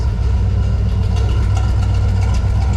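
A steady, loud engine rumble from an idling Dodge D100 truck with a tank swap, a deep low-end drone with no change in pace, close by and uninterrupted.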